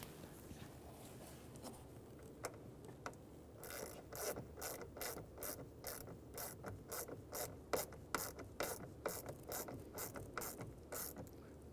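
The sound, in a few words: screw being tightened on blend door actuator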